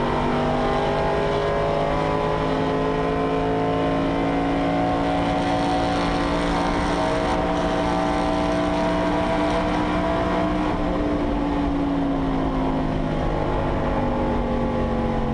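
A historic touring race car roars flat out down Conrod Straight at Bathurst, its engine wailing loud and continuous with steady, slowly shifting pitch throughout, no talk over it.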